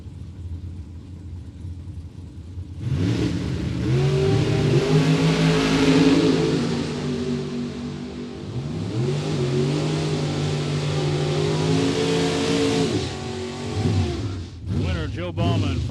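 A 1967 Chevelle and a Corvette launch down a drag strip, engines bursting into a loud roaring rev that climbs, eases and surges again, with a public-address announcer talking over the racing.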